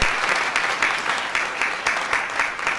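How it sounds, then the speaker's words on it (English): An audience at a Freedom Week event applauds guest speaker Larry Reed, a full, even burst of clapping that holds steady throughout. "A round of applause for Larry Reed"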